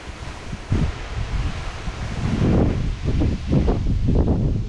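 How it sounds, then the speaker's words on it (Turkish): Strong stormy wind in a village buffets the microphone in heavy, rumbling gusts that grow stronger, with a rustling hiss beneath. "İnanılmaz bir rüzgar var."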